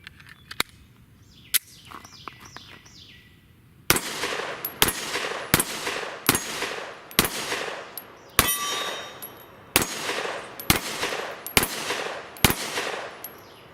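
A Sig Sauer P365 pistol fires Blazer Brass 124 grain full metal jacket rounds in a string of about a dozen sharp, loud shots at an irregular pace. Two lighter metallic clinks come just before the shots start.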